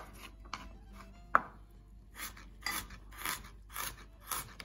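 A knife slices ginger thinly on a cutting board, with a sharp thunk near the start followed by a steady run of crisp, evenly spaced cuts, close and fairly quiet.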